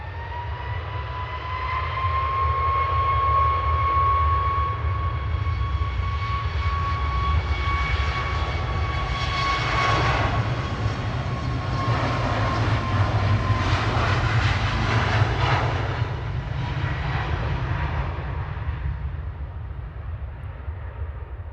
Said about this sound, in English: Ryanair 559 heading off to Dublin there.